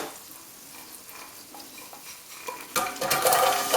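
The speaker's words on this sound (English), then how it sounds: "we're going to fry the onions and the leeks until they are soft." Onions and leeks dropped into melted butter in a large saucepan for leek and sweetcorn soup, a soft quiet stretch that bursts into a loud, close, bubbling sizzle in the final second, without speech.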